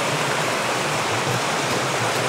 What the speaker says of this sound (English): There's a waterfall just up there.